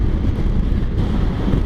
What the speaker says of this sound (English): The wind has just got biblical now, so you've got to be quite careful.